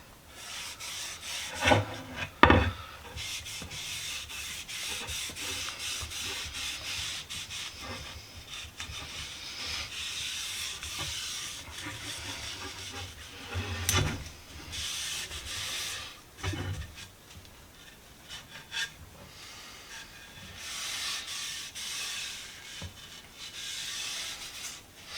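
Cloth rubs wood stain onto an old boy's axe handle in a steady, soft scrubbing rhythm, with a couple of sharper knocks early on and repeated bursts of close friction throughout.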